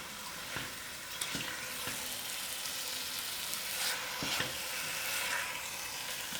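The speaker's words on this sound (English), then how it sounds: "Give it a good stir," Mutton curry sizzles steadily in a pot, broken by a few sharp scraping knocks as a spoon stirs the meat, with no voices over the close, continuous frying hiss.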